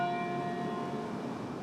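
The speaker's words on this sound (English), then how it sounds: "The sound of church bells ringing echoed from Peachtree Street, down Edgewood, and finally to here on Auburn Avenue." Church bells ringing out along Auburn Avenue, a steady sustained peal carrying from a distance, alone without voices.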